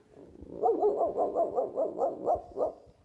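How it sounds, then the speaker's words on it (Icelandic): Several dogs bark in a quick, steady run of about ten barks, fairly close and clear, with no talking over them. "I hear dogs."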